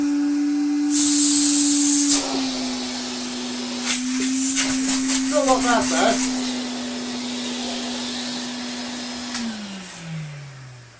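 A Hoover Constellation 867A vacuum cleaner runs with a steady whining hum and airy hiss while people talk over it, and the motor winds down at the end.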